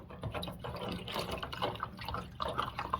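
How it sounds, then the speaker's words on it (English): Water spilling and dripping from a Samsung washing machine's drain filter after a wash, irregular trickles and splashes at close range, fairly quiet. "In my case, it may spill out a bit of water,"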